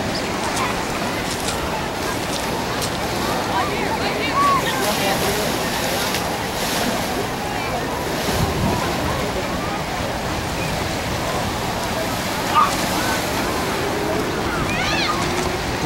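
Ocean waves at Waikiki beach on Oahu wash in as a steady, broad rush of surf with wind buffeting the microphone throughout, continuous and fairly loud.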